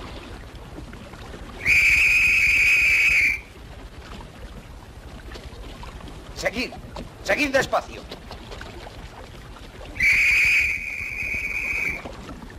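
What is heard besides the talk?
officer's whistle blowing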